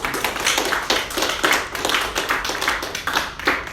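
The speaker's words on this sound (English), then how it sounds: "Can we give God a round of applause?" A church congregation applauding, dense overlapping claps throughout at a steady moderate level.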